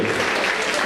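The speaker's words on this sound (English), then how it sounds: "Please applaud." A brief burst of dense audience clapping at a live comedy show, loud and even, cut off after under a second.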